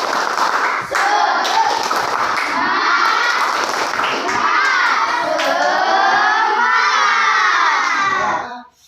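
A school class performs the tepuk semangat clapping chant, many children's voices shouting in unison over rhythmic group hand claps, loud and close, ending abruptly.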